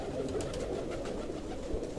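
A large breeder pigeon in a loft coos softly in close, low murmuring calls with no voices over it.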